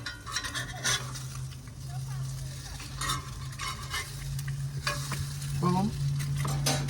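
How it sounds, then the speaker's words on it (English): Eggs sizzle steadily in a non-stick pan, with a few scraping stirs and a quick flip partway through, while someone talks over the cooking. "So I'm gonna flip the eggs real quick."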